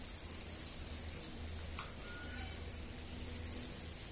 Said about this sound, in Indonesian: Pagi ini cuaca hujan Lur.